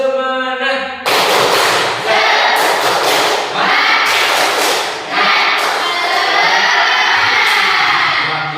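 A group of students in a classroom performing a rhythmic clapping chant, loud synchronized claps in bursts with shouted voices, following a brief tonal sound at the start.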